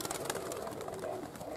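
Pigeons coo softly in a rapid, low warbling stream, faint and somewhat distant against outdoor background noise.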